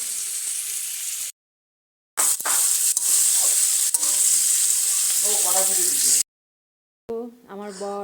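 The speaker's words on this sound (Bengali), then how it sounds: "ক্যাপসিকাম গাজর ভাজছি রাইস করবো" Capsicum and carrot fry in a pan for fried rice, giving a loud, continuous sizzle broken by two brief silent gaps, with a few clinks and some speech-like sounds near the end.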